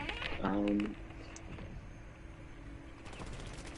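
Rapid bursts of gunfire from the video game Rainbow Six Siege crackle as ammo is sprayed, with a brief tonal game sound near the start, then a quieter stretch of ambient game noise.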